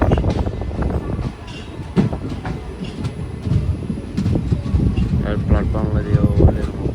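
The Kacheguda Express passenger train, number 17651, pulls in at a station platform with rolling wheel clatter and rumble, close and loud, while voices talk nearby.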